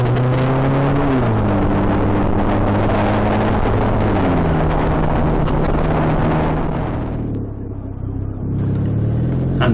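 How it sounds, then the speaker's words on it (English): A car accelerates hard along a straight road to overtake a camper van, its engine climbing through several gear changes in a loud, close roar that fades toward a steady cruise. "At least the road's straight enough to get past this camper van."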